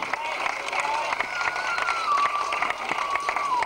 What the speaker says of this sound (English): Ellie's clapping her hands.